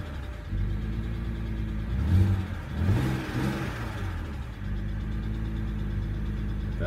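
A BMW 135i with the N54 engine cranks and catches, revs up in a couple of quick flares, then settles into a steady, even idle, close and clear with no talk.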